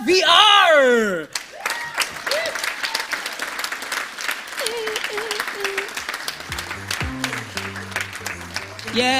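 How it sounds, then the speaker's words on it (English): An audience applauds the winner of an Africa startup pitch competition with dense, sustained clapping and cheering, while voices call out over it and a person talks near the end. "Applause, applause, applause."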